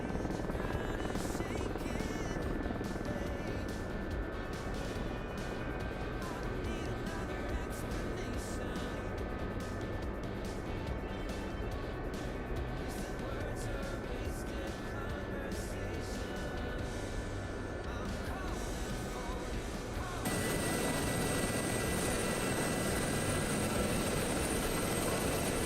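A simulated helicopter in DCS World drones steadily with rotor and turbine noise through a skid landing approach, loud and continuous, with its tone shifting abruptly near the end.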